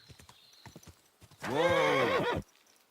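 A few clip-clop hoofbeats, then a loud, close horse whinny lasting about a second before cutting off, from the video game Kingdom Come: Deliverance 2.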